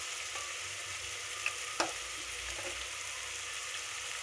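Tomatoes with chili powder and biryani masala fry in a pan, giving off a steady, even sizzle with a couple of faint clicks from the pan.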